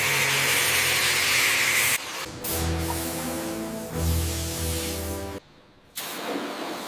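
A steam cleaner hisses loudly on an abandoned Mercedes-Benz Actros truck with heavy moisture damage, a broad spray in bursts broken by short pauses, with engine-like tonal hum underneath.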